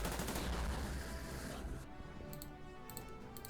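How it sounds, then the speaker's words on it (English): Tank attack in the war strategy game Order of Battle: Burma Road, a burst of rapid gunfire and rumble that fades into sparse ticking clicks, moderately loud with no talking. "So let's attack this guy with our tank."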